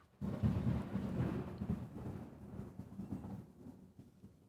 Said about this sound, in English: Holy fucking thunder. That sounded like the lightning struck the ground or something.